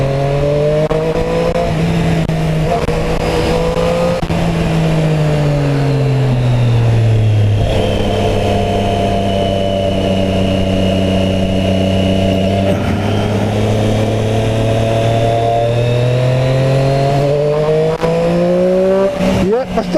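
A Triumph Street Triple RS 765 motorcycle engine revs on a race track, its loud steady drone rising and falling in pitch over twenty seconds, alone with no talking.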